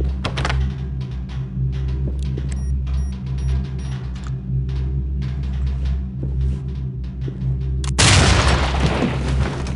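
A breaching charge detonates in the SWAT 4 video game, one sudden loud boom near the end after a stretch of low steady rumble and faint clicks.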